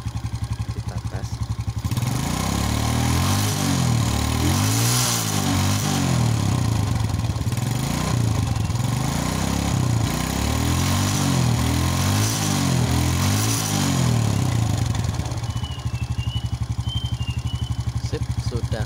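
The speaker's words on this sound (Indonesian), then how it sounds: "Satu kali engkol sudah nyala motornya" A Suzuki Smash motorcycle engine, kicked into life after a misfire fix, idles steadily and loud up close, then revs in rhythmic rising and falling surges before settling back to a steady run.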